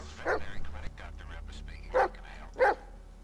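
A dog barks in the Blair Witch video game, three or four sharp barks spaced over a few seconds, loud and close, under a steady low background hum.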